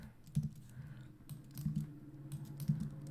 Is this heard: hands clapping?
no